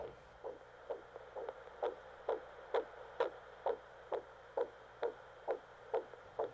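Baby's heartbeat heard through a stethoscope in the video game Head to Toe, a steady thudding pulse of about a dozen soft drum-like beats at an even rhythm over a low background hum.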